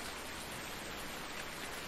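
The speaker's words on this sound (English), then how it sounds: "Oh, it's raining. In bright sunlight, it's raining." Rain falls in the farming video game Farming Simulator 19 as a steady, even hiss. It is quiet and uniform for the full two seconds, with no talking.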